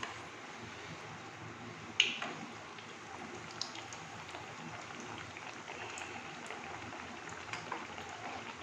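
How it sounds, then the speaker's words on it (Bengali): Fish snacks (poddoja) fry in hot oil, a steady soft sizzle with scattered pops and one sharp crackle near the start, close and even throughout. "এবার আমি এই পদ্মজাগুলোকে ভাজবো"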